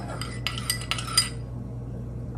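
A utensil stirs a basic salad vinaigrette, clinking and scraping quickly against its container for about a second, then goes quiet.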